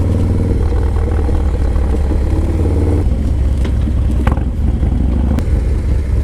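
A Harley Low Rider S or Yamaha Warrior 1700 muscle bike engine drones loud and close, rumbling steadily with a brief surge of revving near the limiter around the middle.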